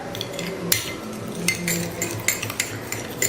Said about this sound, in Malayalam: എണ്ണ നല്ല രീതിയിൽ അങ്ങ് മിക്സ് ആക്കി എടുക്കുക